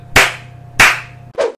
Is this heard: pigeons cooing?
no